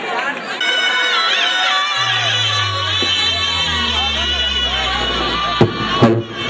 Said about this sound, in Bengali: সবাই একটি জোর করতালি এবং জোর আওয়াজ তুলবেন